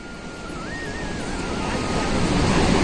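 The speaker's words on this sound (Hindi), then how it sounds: "अच्छा झरना आ रहा है इसका" Water rushes steadily near Bhim Pul in Mana village, a broad continuous roar that swells slightly louder toward the end, with wind buffeting the microphone and a faint tonal whine drifting through.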